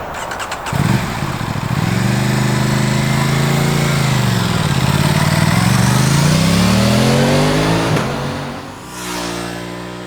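A 2025 Aprilia Tuono 660 Factory motorcycle pulls away on the road, its loud close engine note rising and falling through several gear changes before easing off.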